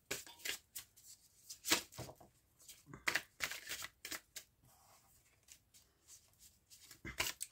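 Celtic tarot cards being shuffled by hand, in close, crisp bursts of riffling and flicking separated by short pauses, with quiet speech in places.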